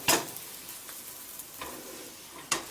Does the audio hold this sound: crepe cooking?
yes